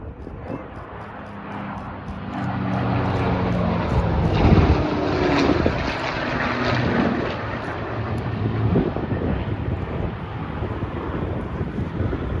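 A V12 warbird engine at the Tyabb airshow roars overhead as a loud, rising-and-falling drone with wind buffeting the microphone, and a commentator speaks over it.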